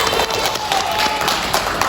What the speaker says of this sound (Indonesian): Benar sekali, tepuk tangan kepada Suci.